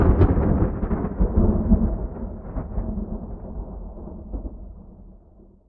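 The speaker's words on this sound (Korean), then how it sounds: "뭐야 이 천둥 소리?" Thunder in the Korean online game Elsword: a loud, deep rolling rumble that starts strong and slowly fades away over several seconds, alone without any talk.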